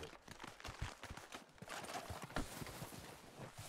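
A horse's hooves clip-clop in a steady, uneven rhythm in the Red Dead Redemption 2 video game, faint and under scattered game sounds.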